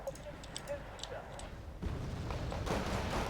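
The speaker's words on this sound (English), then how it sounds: "There comes the artillery." Artillery fire in the real-time strategy game Wargame: Red Dragon, battlefield rumble swelling into a louder, sustained roar of distant impacts after a quieter stretch of faint clicks, with a voice talking over it.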